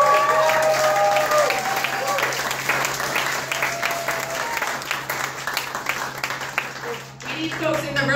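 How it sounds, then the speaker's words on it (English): An indoor audience applauding, with dense, continuous clapping from a room full of people that holds steady for several seconds and then begins to thin out. "We'll give her a round of applause for Mary Kay."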